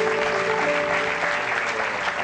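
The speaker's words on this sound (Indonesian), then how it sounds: "Ya, beri tepuk tangan untuk Bapak Ferdinand Liu." Audience applause for Ferdinand Liu at a televised talk show event, a steady dense wash of clapping from a crowd, loud and continuous throughout.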